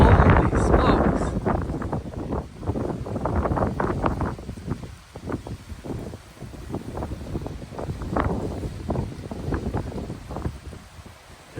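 Strong west wind gusts buffet the microphone in a Phoenix dust storm, a loud rumbling roar that surges and eases in waves, with a person speaking intermittently.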